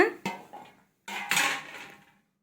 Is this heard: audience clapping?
no